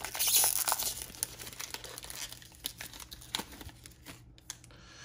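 A 2021 Prizm retail baseball card pack with a thin, tissue-like wrapper is torn open, giving close, busy crinkling and tearing that is loud at first and then breaks into sparser rustles and crackles.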